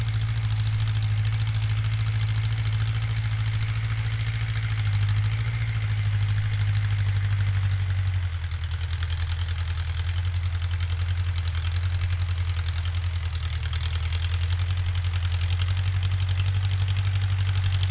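A bell pepper harvester machine runs in the field, a loud continuous low engine drone with a steady mechanical hum, constant and near, no voices.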